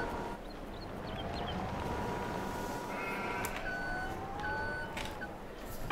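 Sheep bleat in the Farming Simulator 22 video game on the Haut-Beyleron map: a few drawn-out, wavering calls rise over a constant low mechanical hum, with soft clanks scattered between them.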